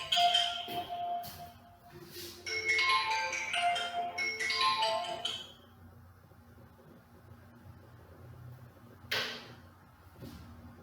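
A phone rings indoors with a bright repeating electronic tone for several seconds, then stops and leaves a quiet room with a short knock near the end.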